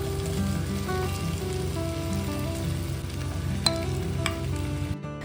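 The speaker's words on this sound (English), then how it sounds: "Now add the potato cubes." Potato cubes frying in a pan with red chili powder and grated beetroot for Sikkim-style aloo thukpa, a steady close sizzle with occasional stirring clicks, continuous and even throughout.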